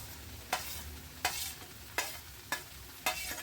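Ridge gourd palya sizzles gently in a pan while a spoon scrapes and stirs it in five sharp, evenly spaced strokes, close and quiet with no talking.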